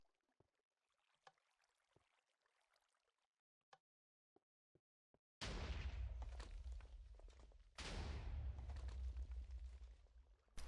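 A Minecraft TNT cannon built for race-for-wool competition fires in the video game. Faint clicks and ticks come first, then two loud, booming explosions with a deep rumble follow a couple of seconds apart.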